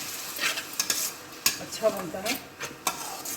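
Onion paste sizzling and frying in a pan for a malai kofta gravy, stirred with a spoon that scrapes and clinks against the metal in repeated strokes, close and fairly quiet, with a brief voice speaking over it.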